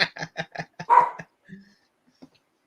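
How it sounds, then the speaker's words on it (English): A dog barks in a quick run of about seven sharp, close barks, then a couple of faint yips trail off into quiet. "He's barking again."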